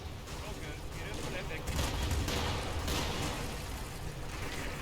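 Dense, continuous bursts of video game gunfire and explosions rattle at a steady loudness, a muffled battle din with no pauses, in Combat Mission at Monte Cassino.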